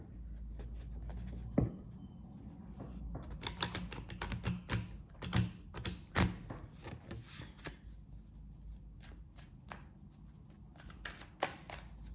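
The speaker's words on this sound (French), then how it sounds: "Je vais battre les cartes." A deck of tarot cards being shuffled by hand, giving soft, irregular riffling and tapping bursts that come close up and fairly quiet, with no talking over them.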